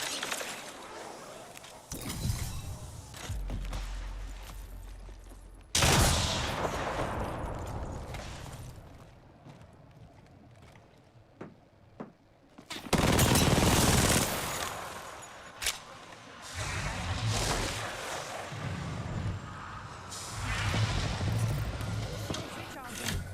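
Gunfire in a video game in bursts of rapid shots and impacts, loud and close, with gaps between the bursts and game voice lines heard now and then.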